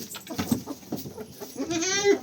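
Goats at feeding time, fed beets grated by hand, give short bleats and rustling among chicken clucks and bird calls, moderately close and fairly quiet.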